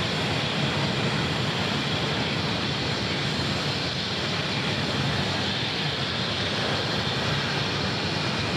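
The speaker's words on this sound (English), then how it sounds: "Just in time for the 737-700 from St. Louis." A Boeing 737-700 arriving from St. Louis at Sky Harbor Airport gives off a dense, even jet rumble that stays loud and constant throughout, with no voices over it.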